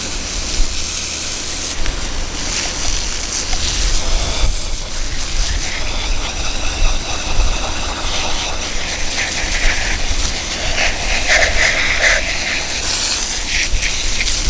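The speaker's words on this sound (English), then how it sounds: "just spraying the mud and the brain matter, whatever's left stuck on them. Spraying off." Loud, continuous hiss of a pressurized water spray blasting mud and remaining matter off a deer skull, shifting in tone as the stream moves.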